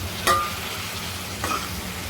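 Drumstick pods are stirred into frying masala in a pan, with two scraping stirs over a steady sizzle.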